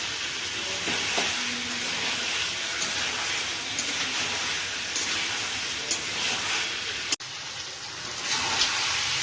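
Marinated mutton sautéed in a pan with ground spices and a pinch of sugar gives a steady, close sizzle with scraping stirs running throughout, one sharp knock near the end and no talk.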